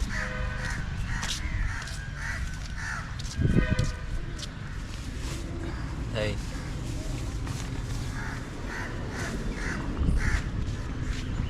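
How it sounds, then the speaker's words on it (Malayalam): Crows cawing repeatedly in a banyan tree at Rameswaram, a run of harsh calls at moderate distance in bursts, with people talking nearby over them. "ഈ ആലിൻ്റെ മുകളിൽ മുഴുവൻ കിളികളായിരുന്നു."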